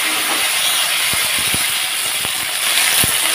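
Potatoes frying in hot oil in a wok, a loud steady sizzling hiss with scattered sharp pops and crackles and no voices.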